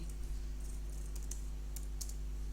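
Typing on a computer keyboard while entering text in an Excel marksheet, heard as sparse, faint clicks over a steady electrical hum.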